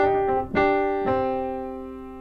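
A short blues lick on piano, built around a G anchor note, strikes a few quick notes and then a last chord that rings out and slowly fades, with no voices.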